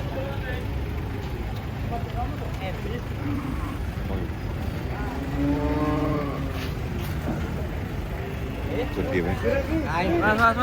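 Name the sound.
cattle mooing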